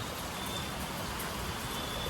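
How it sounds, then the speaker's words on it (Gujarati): Steady rain pours down without a break, a dense even hiss of drops close by with no voices. "જો વરસાદ થઈ ગયો છે ચાલુ"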